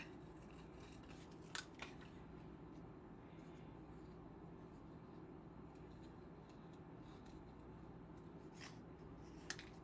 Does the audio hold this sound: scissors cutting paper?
yes